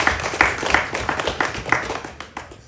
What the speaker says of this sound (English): Let's give her also a rousing round of applause.